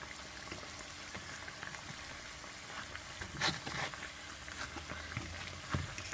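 Soft, steady sizzle of jerk prawn stuffed dumplings frying in a pan, faint and close, with occasional small pops and light clinks.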